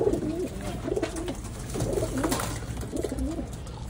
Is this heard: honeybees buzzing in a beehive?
no